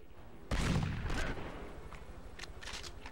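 A loud burst of gunfire erupts suddenly in the 24: The Game video game, a dense close volley that trails off into scattered lighter shots and impacts.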